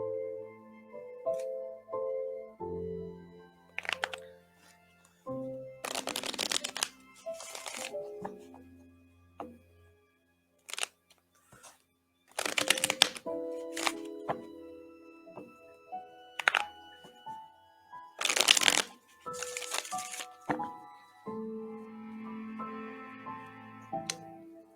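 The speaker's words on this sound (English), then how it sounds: "I'm gonna throw down a couple of cards for her" Tarot cards are shuffled and riffled in several loud, crisp bursts separated by quieter handling and placing of the cards, with a soft voice occasionally speaking between them.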